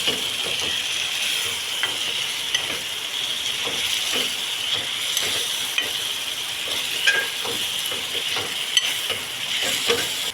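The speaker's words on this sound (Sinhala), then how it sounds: "දැන් ඔහොම විනාඩි 5ක් විතර මද ගින්නේ සැමන් එක බැදෙන්න දෙනවා" Canned salmon frying gently over low heat in a pan, a steady soft sizzle and crackle running throughout with small spattering pops and occasional stirring scrapes, no talking.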